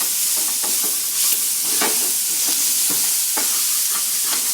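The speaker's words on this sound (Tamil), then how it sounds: "அந்த பச்சை ஸ்மெல் போகிற வரைக்கும் கொஞ்சம் வதக்கிக்கோங்க" Ginger-garlic sautéing with onions in a pan for a village-style mutton kuzhambu fills the clip with a loud, steady frying hiss, broken by repeated scraping strokes of a stirring spoon.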